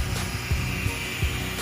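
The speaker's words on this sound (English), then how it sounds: "This is a little drill brush tool." A drill brush scrubs the upholstery inside a 6-speed V8 BMW E39, giving a steady motorized whir with faint rhythmic scrubbing thumps, fairly close and with no talking.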